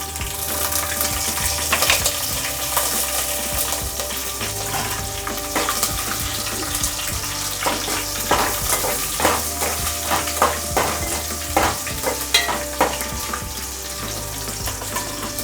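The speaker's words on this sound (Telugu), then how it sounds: "తాలింపు వేగింది కదా, ఇప్పుడు 4 పచ్చిమిర్చి ముక్కలు" Green chili pieces sizzle loudly in hot tempering oil for a Telangana egg curry, with a continuous frying hiss broken by sharp clinks and scrapes of stirring.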